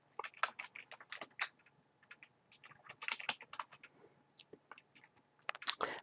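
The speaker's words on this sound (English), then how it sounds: "with my caps lock key turned on, I'm going to type in my name," Fingers type out a name on a computer keyboard with caps lock on, giving quiet, uneven bursts of key clicks with short pauses between words. A sharper tap lands near the end.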